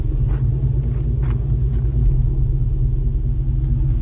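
Deep, continuous bass rumble pumps from four Fi HC18 subwoofers driven by two Crescendo 17k amplifiers at 1 ohm, playing at half volume inside a car as a loud, throbbing low drone.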